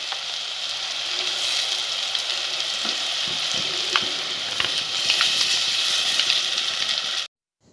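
Onions fry with turmeric and green masala in a pan, a steady close sizzle with brief scrapes of stirring that stops abruptly near the end.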